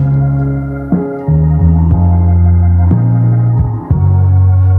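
An RCF Art715 A mkII powered speaker with a fault reproduces only bass with no highs, giving loud, steady low tones that shift pitch every second or so, heard alone.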